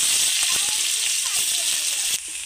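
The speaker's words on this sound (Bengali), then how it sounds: "এবার পেঁয়াজটাকে একটু লাল করে ভেজে নেব।" Onions sizzling in hot oil with cumin in a pan, a continuous bright hiss with occasional stirring clinks and pops, fairly close and steady before easing slightly near the end.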